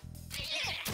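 A cat meows once in the game Persona 5 Tactica, a close, bright, drawn-out cry over low humming game sound.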